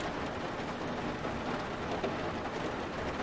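Steady heavy rain mixed with gusting wind roars without a break in the submarine game Uboat, a dense, loud storm wash at sea with faint low rumbles and no voices.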